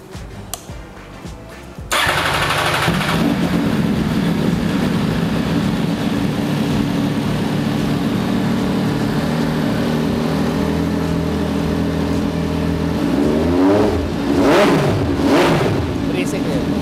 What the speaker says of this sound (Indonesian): suara khasnya 3 silinder MV nggak akan pernah bohong